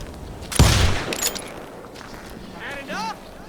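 One loud, sharp gunshot in the Western game Call of Juarez: Gunslinger, followed by a faint second crack, with a voice speaking afterward.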